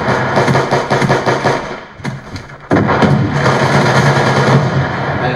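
Primary weapon gunfire in the video game Call of Duty Black Ops 2, a loud rapid automatic burst, a short pause, then another continuous stream of shots.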